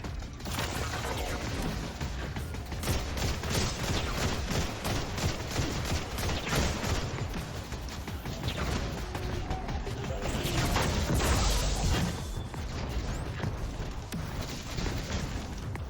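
Dense, continuous gunfire and blasts from a Destiny 2 firefight, loud and unbroken with heavy low booms and rapid crackling bursts throughout.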